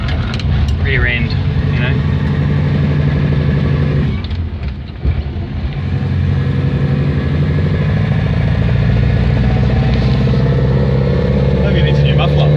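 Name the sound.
Morris Oxford car engine and exhaust running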